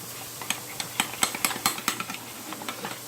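Lime burger dressing stirred in a bowl for Mexican-style burgers, a spoon clicking and scraping against the bowl in a quick, irregular run of light taps, close and fairly clear with no talking.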